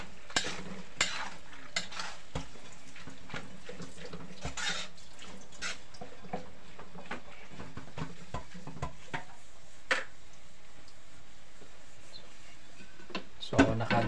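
Beef innards being sautéed for pinapaitan in a pan, a soft continuous sizzle broken by repeated scraping and stirring clicks, fairly close and quiet, with no voices.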